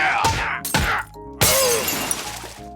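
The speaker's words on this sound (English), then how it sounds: "he also completely shatters the Kool-Aid Man" A cartoon shattering of the Kool-Aid Man, a large glass pitcher-shaped figure, bursts out in several loud crashing breaks with scattering debris, overlaid by score and sound effects.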